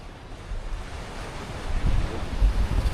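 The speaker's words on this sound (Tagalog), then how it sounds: "Tingnan natin ang karagatan natin." Ocean surf and wind at the shore in the afternoon, a continuous low rumble of waves swelling louder toward the end under buffeting wind noise on the microphone.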